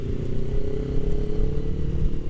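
Suzuki V-Strom 1000XT motorcycle on the move, its engine droning steadily and loud with a rough, pulsing low rumble throughout, no voices present.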